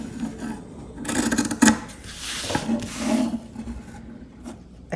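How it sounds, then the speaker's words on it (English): Scissors cutting fabric for a junk journal cover: rough, rasping snips and rubbing strokes, close and moderately loud, coming in bursts over about five seconds with no talking. "I feel like the cutting of the fabric is so loud."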